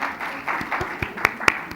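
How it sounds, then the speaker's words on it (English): A short burst of audience applause at a talk, a dense patter of clapping with a few sharper, louder claps near the end, lasting under two seconds. "Round of applause."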